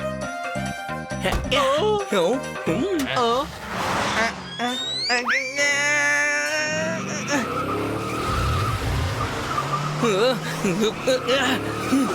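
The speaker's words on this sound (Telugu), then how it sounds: "నేను కారు నడపడం మొదలు పెడతాను." A cartoon car drives with revving engine whines, tire skids and squeals. Comic sound effects and animated voices are mixed in throughout.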